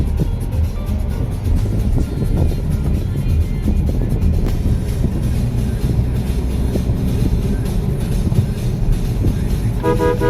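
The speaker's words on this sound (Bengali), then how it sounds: "এখানে জাম লেগে গেছে" A roadside traffic jam on the Silchar bypass near a railway crossing, with a dense, loud rumble of engines and traffic and a car horn tooting out over it, steady throughout.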